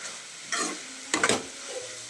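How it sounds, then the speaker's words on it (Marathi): Thecha chili chutney sizzles as it is tempered in a kadhai, with a short crackling burst followed by quick stirring scrapes, close and moderately loud with no voices. "ह्याच कढईमध्ये ठेचा फोडणीला घालूया"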